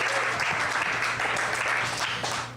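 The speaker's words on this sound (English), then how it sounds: "let's give a big, loud round of applause for the woman who puts this all together, Miss Sarah Bohr." A theater audience at an open mic night claps steadily, a full, even round of applause that holds throughout and tapers slightly at the end.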